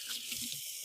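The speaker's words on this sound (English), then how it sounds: "I'm gonna go give my hands a quick rinse" Running water from a kitchen faucet rinses a cook's hands at the sink, a short, steady splashing hiss heard close up and alone.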